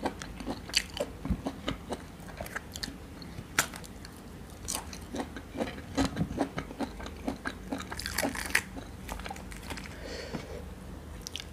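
Crunchy Monthong durian, crisp outside and soft inside, is bitten and chewed close to the mic, with repeated sharp crunches and moist chewing in an uneven rhythm and no talking.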